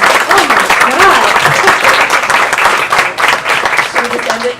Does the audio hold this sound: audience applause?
yes